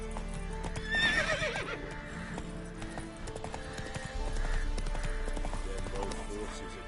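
Roach the horse from The Witcher 3 gallops with close hoofbeats and lets out a clear neigh early on, the hooves continuing under ambient game sound and a brief voice.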